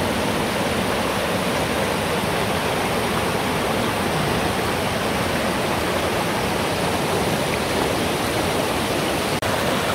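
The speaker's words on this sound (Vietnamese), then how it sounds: "Đến đây thì tiếng thác nước đã rất là lớn rồi các bạn ạ." Loud forest waterfall, a steady, dense roar of falling water that fills the whole stretch evenly and never changes, close and constant, with no voices.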